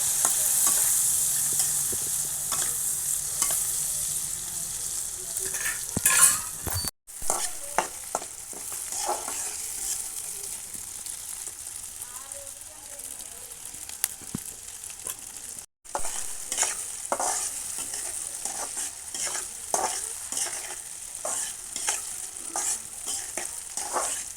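Onion and tomato pieces fry and get stirred in a pan for curry-leaf greens, a steady sizzle with repeated scraping strokes throughout, briefly cut off twice.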